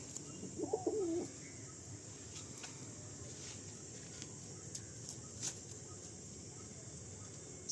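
Tiger-lineage pigeons for sale give a short, soft cooing burst near the start, then only a faint steady background hiss.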